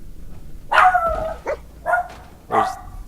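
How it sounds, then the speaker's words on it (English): A dog barks in the video game Fallout 4: three or four sharp, separate barks in quick succession, fairly close and clear over a quiet background. "There's my dog is barking."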